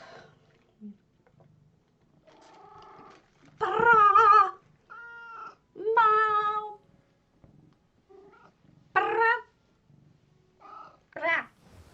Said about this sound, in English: Van Gogh is a very talky cat